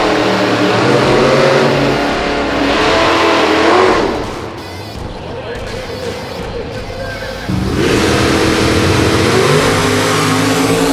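Drag racing cars at Atco Dragway roar loudly with revving, accelerating engines, easing briefly in the middle before surging again; voices talk over the engine noise.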